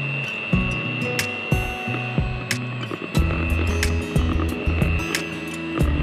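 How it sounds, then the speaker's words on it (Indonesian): An electric mixer whirs steadily through steamed tiramisu cake batter, a constant motor hum with rhythmic scraping knocks as the beaters move through the bowl. "lalu kita mixer lagi sampai tercampur aja"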